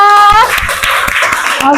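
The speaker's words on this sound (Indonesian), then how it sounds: "Tepuk tangan untuk kelompok 3." A classroom of students gives a short burst of clapping for the winning group in a class game, starting right after a brief spoken phrase and fading within a second or two.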